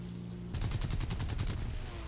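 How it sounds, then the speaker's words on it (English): Rapid bursts of aircraft cannon fire from a War Thunder air battle erupt partway in, loud, dense and rhythmic, over steady engine drone, with no talking. "They need to nerf those cannons."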